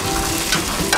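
Pork chops sizzling in a hot pan as they are turned over, a steady close crackle with brief louder hiss and scrape near the middle and end of the short burst.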